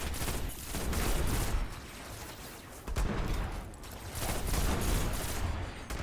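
Pulse rifle from the video game Destiny firing in repeated loud bursts, each volley a rapid cluster of sharp shots with short pauses between, close and dominant with no talking.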